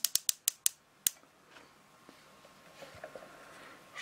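A Kitfort KT-2054 mini toaster's timer dial is turned, giving a quick series of about six sharp plastic clicks close by, followed by faint scattered ticks and light handling noise.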